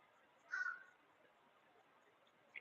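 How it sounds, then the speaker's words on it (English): Crows calling outdoors, heard as one distinct, faint caw from a distance, followed a couple of seconds later by a shorter, softer second call against quiet background. "Some crows and shit."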